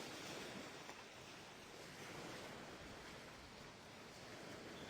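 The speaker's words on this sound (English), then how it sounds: "The sounds, I only hear the waves." Ocean waves rolling in the VR Sailing game on Meta Quest 3, a steady, even wash of surf with no other sounds.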